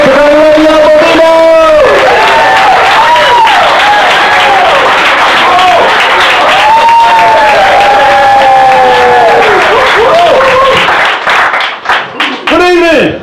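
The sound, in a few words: audience applause and cheering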